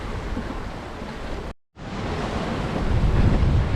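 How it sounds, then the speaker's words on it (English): Strong wind roars across the microphone while a sailboat runs at speed in 28 knots of wind near Pladda, with steady broadband gusting and surf, a brief dropout midway, then continuing loud and unbroken. "We got 28 knots of wind and I'm on the sails."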